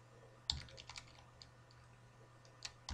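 A few sparse, faint keystrokes on a computer keyboard while filling in a form in MS Word 2010, scattered clicks over a steady low hum.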